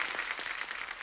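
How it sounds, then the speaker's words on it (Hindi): Studio audience on The Kapil Sharma Show breaking into applause: a thick, even wash of many hands clapping, moderately quiet and continuous throughout the short stretch, with no talking over it. "एक बार जोरदार तालियां हो जाए।"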